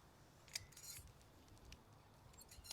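Scissors snip through woody, leggy Sedum rubrotinctum succulent stems: a few quiet, crisp clicks, one sharper cut near the start, then scattered lighter snips over faint room noise with no talking.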